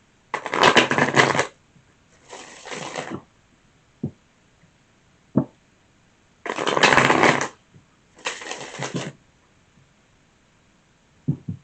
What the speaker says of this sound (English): more shuffles.